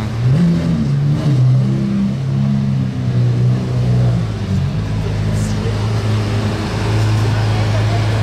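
A Lamborghini Aventador roars past in heavy traffic, its engine note loud and close with shifting low tones that settle into a steady drone, while someone talks over it.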